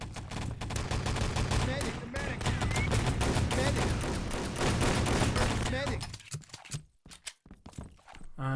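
Sustained rapid MG42 machine gun fire in Wolfenstein: Enemy Territory, a dense, loud stream of shots with other gunfire and commentary mixed in, cutting off abruptly near the end into a few scattered pops.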